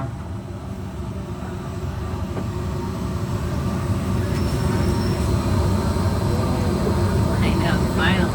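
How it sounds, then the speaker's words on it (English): Steady low rumble and rolling hum of the Disneyland Monorail in motion, heard from inside the car, continuous and fairly loud for the whole stretch, with faint higher tones overhead. "Welcome aboard the Disneyland Monorail."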